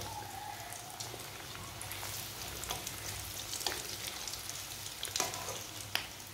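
Bread and potato snacks fry in very hot oil, giving a steady bubbling sizzle with occasional sharp crackles and pops, close by and without any talk.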